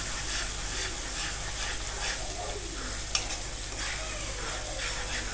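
Red chili, turmeric and ground coriander powder frying in a pan with onion, a steady sizzle and hiss running throughout with soft stirring scrapes and one sharp click near the middle, no talking.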